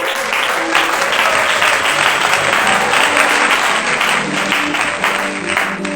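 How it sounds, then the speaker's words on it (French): A church audience at a night prayer service breaks into sustained applause and cheering for a young man, a dense, steady wash of clapping filling the space from start to finish. "Est-ce qu'on peut acclamer pour lui?"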